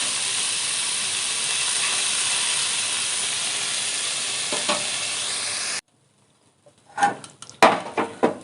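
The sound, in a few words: lote fish frying in oil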